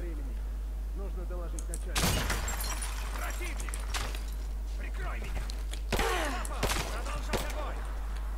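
Glass shattering in Rise of the Tomb Raider at a Soviet base, with two sharp breaking crashes followed by scattered tinkling debris, set against a steady low hum and someone talking throughout.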